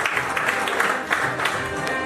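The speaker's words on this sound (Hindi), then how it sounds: "उनके लिए भरपूर तालियां।" Steady applause from an audience at the opening ceremony of a cricket league, a dense continuous patter of many hands clapping at moderate volume, with a crowd murmur beneath it.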